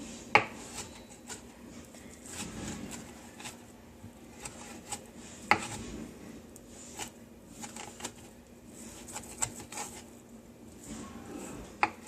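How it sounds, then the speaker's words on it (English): Knife chopping spinach on a cutting board for a Greek yogurt dip: quiet, irregular taps and scrapes with a few sharper knocks, close by and steady. "I'm going to continue to chop this"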